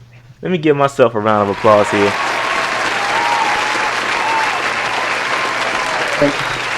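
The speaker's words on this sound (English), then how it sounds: "Let me give myself a round of applause here." Someone speaks briefly, then a sustained burst of crowd applause follows, steady and even for several seconds under a faint background tone.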